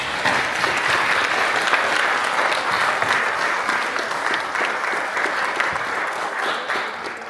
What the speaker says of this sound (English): please, let us give all of them another round of applause